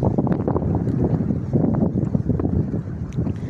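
Steady, blustery wind buffets the microphone with a continuous low rumble and rushing noise throughout.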